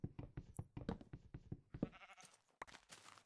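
A run of rapid, clipped bleats from sheep in the Minecraft video game, about a dozen close together, followed by a few louder scraping, crunching bursts.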